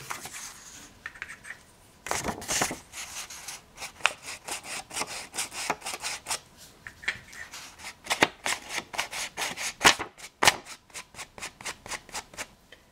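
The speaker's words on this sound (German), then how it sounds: "das werde ich jetzt nochmal mit einem Stempel am Rand einfärben" Patterned craft paper edges rubbed with an ink stamp pad, producing close, dry scratchy swipes in irregular bursts, quiet at first and then quickening into rapid repeated strokes.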